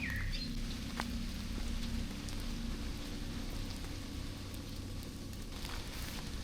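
Steady rain falls in a forest, a dense, continuous hiss of drops on leaves and ground that stays loud and even from start to finish with no voices.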